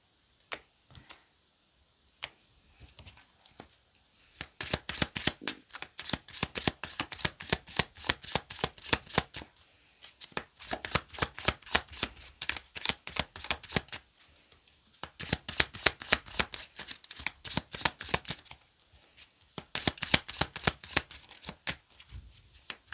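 A deck of tarot cards is riffle-shuffled again and again, each pass a rapid, crisp run of flicking clicks, with short pauses between bursts and close, clear handling sounds.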